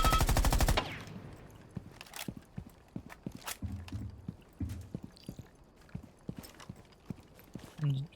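Full-auto gunfire in Rainbow Six Siege: a loud rapid burst opens, then scattered sharp shots, clicks and footstep-like taps follow at lower level, close up with no voices.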